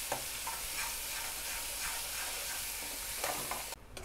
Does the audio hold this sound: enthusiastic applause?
no